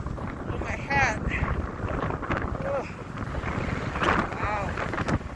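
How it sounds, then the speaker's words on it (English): Strong wind gusting across the microphone outdoors during a roadside walk, a continuous low roar with buffeting swells, with a voice speaking faintly over it. "Wow, that wind is strong."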